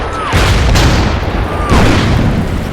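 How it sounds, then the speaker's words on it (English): Artillery piece firing on a town in the World War II strategy game Order of Battle: Blitzkrieg, with two heavy booms a little over a second apart, each followed by a rolling rumble that keeps the clip loud throughout. "I'm going to try to get this artillery piece as close as possible, guys, and go ahead and open fire here on the town."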